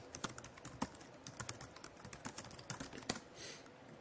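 Quiet typing on a Mac computer keyboard, irregular close key clicks entering a streaming server address, with no talk.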